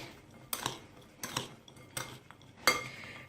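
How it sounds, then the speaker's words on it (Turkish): A spoon stirs nokul filling ingredients in a bowl, four spaced scraping clinks against the bowl with soft rustling between, close and moderately quiet. "hemen bunları güzelce karıştırıyoruz"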